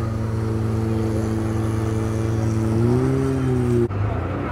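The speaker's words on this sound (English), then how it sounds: "Looks like we got a tour boat going." A tour boat's motor runs on the Chao Phraya river in Bangkok, a loud, steady droning hum close by that rises slightly in pitch near the end before cutting abruptly, with a voice faintly present.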